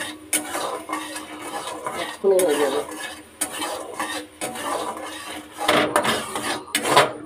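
Caramel being stirred in a cooking pan, with repeated scraping and clinking strokes of a utensil against the metal, fairly close and steady, with no talking.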